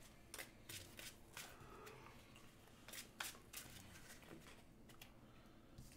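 A deck of Magic cards is shuffled during a game, giving a quiet run of riffling, flicking bursts at an irregular pace over several seconds, with no voices.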